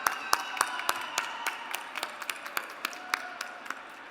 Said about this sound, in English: Please join me in giving them one more hand of applause